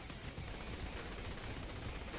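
Rapid gunfire from the video game Saints Row: The Third, a dense continuous burst of shots filling the whole moment at moderate loudness with no talk over it.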